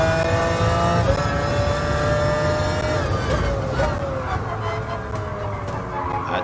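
A 1996 McLaren F1 GTR race car engine in Gran Turismo Sport drops in pitch as the throttle is eased off, a loud, steady whine sliding downward, with a voice speaking over it.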